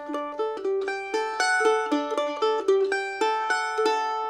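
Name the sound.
mandolin playing a song's intro riff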